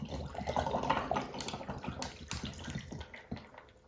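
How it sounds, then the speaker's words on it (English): Cocktails poured into glasses packed with ice for festive Christmas party ornament martinis, a close liquid splash and trickle with small clinks, running steadily for a few seconds. "And then we're gonna pour these into our glasses."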